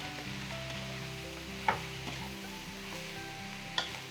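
Okra frying in a pan, a quiet steady sizzle with faint crackles and two sharp clinks of a utensil against the pan, no talking over it.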